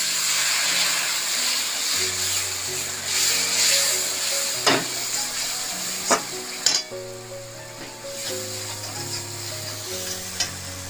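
Spice masala of chilli, cumin and turmeric powder frying in a pan with a splash of water, sizzling steadily throughout with a few sharp stirring clinks over a hum of background tones, no talking.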